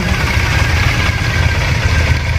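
A Triumph Thruxton 900 motorcycle with twin vintage-style exhausts idles steadily and loudly nearby, a continuous low rumble with no change in revs.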